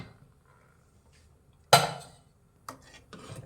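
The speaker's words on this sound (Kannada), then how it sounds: "ಲಿಡ್ ಓಪನ್ ಮಾಡೋಣ." A pressure cooker lid being opened after cooking avarekalu saaru, heard as one sharp metallic clank followed by a couple of lighter knocks and rattles in a quiet kitchen.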